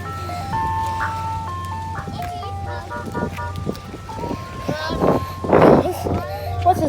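A new ice cream truck plays a looping electronic jingle of bright stepped notes, loud and close, while people talk over it.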